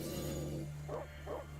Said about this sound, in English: From the barks and growls, it sounds like a pack of dogs.